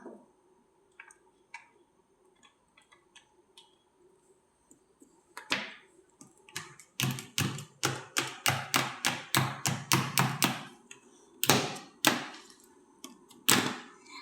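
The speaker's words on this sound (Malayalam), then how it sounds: "ക്യാരറ്റ് കട്ട് ചെയ്യാനാണ് ഫസ്റ്റ് കേട്ടോ." Carrots are chopped with a knife on a board, a few scattered light taps followed by a fast, regular run of sharp chopping strikes, then a couple of slower final cuts, close and clear.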